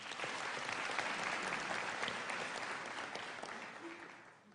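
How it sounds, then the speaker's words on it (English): Graduation ceremony audience at a South African university giving a sustained round of applause, a dense even patter of many hands that gradually tapers off near the end. "Can we give her a round of applause?"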